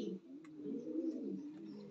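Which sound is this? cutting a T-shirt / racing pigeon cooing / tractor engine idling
racing pigeon cooing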